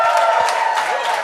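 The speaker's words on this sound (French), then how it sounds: "faites un tonnerre d'applaudissements au prochain humoriste" A comedy-show audience applauds and cheers loudly for the next comedian: dense, steady crowd noise with whoops over a sustained tonal backdrop, lasting about a second.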